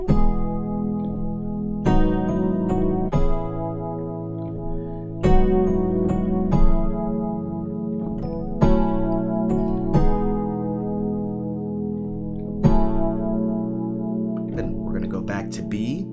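Piano plays a ballad in lush sustained chords, each struck firmly and left ringing, a slow steady progression of about a dozen changes heard alone.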